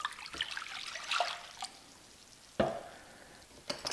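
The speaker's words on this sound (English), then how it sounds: "I'm starting with the same 2 cups of water as before" Two cups of water are poured for whole grain bread dough, heard as short splashy pours and drips separated by quiet gaps, close and fairly soft with no talk.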